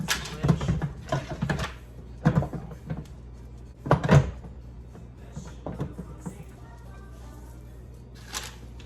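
The lid of a kitchen compost bin is opened and handled, producing several close plastic knocks and clunks spaced irregularly, with quieter rustling between them.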